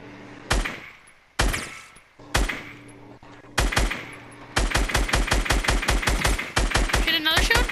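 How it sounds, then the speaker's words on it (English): Rapid automatic gunfire in an online shooter match, starting with a few spaced heavy bursts and then a dense, loud rattle of continuous shots, with a faint voice buried underneath. "Oh, I see who you're shooting at."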